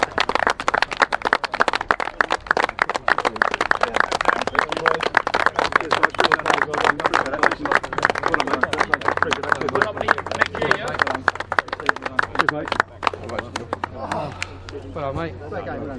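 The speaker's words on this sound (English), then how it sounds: "Tom, we're going to give him a clap off for the champions, right? Give him a clap off, boys" Football players clap off the champions after an amateur match between Northaw and Edmonton Rovers, a loose, steady burst of outdoor clapping mixed with chatter and shouting that lasts throughout.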